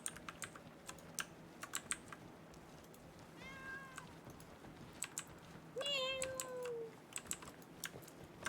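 A cat gives two meows, a short one and then a longer, drawn-out one, against quiet, close computer keyboard typing that clicks on and off throughout.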